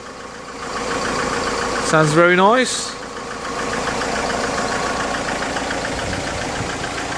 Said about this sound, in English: We've just put a new engine in there. Give a good listen on that.